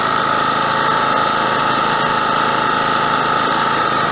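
A Werk WPG 3600 petrol generator engine idles steadily and loudly, a constant mechanical drone with faint rhythmic knocking throughout.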